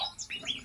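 Orioles? No — kutilang bulbuls in an aviary giving short, bright chirps and whistled notes in quick succession, fairly faint and close together, with no talking.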